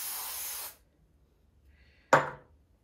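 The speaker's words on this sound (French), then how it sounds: "je vais rajouter du spray fixant" Hair fixing spray hisses onto a human hair wig in two close, bright bursts: a long spray lasting under a second, a pause of near silence, then a shorter, sharper spurt.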